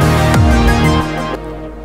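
Full-bodied synth brass plays in a synthwave track for a video game, with rich sustained chords, a swooping pitch bend and a steady low bass underneath, fading slightly toward the end.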